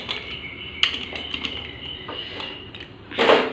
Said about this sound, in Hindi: चलिए तो इसका ढक्कन हम लगा लेते हैं।